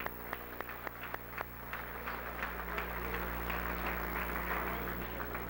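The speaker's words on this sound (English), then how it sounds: "We give them a round of applause" Applause from the audience at an M Club awards banquet for Medford High School starts with a few scattered claps and builds into steady clapping across the room, heard from a distance.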